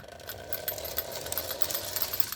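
A Lionel 686 turbine O gauge toy train locomotive motor whirring steadily, with a rapid mechanical clatter and faint metallic ticks, fairly quiet and close.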